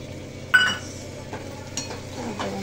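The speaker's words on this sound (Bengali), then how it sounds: "একটুখানি জল দিয়ে দিই সামান্য, যাতে পটলটা ডাঁটাটা সিদ্ধ হয়ে যায়" A little water splashes into a hot pan of cooking pointed gourd and greens stems, giving a sudden hiss, then a steady low sizzle with faint clinks of utensils.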